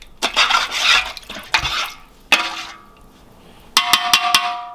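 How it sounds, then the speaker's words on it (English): Beef broth and Lipton onion soup mix stirred in a crockpot: close scraping and sloshing strokes, then a run of bright metallic clinks as the utensil taps against the pot near the end. "Sort of mix that around a little bit."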